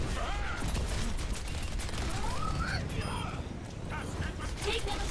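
Rapid gunfire in the video game Overwatch, steady continuous shooting throughout, with players talking over it in German.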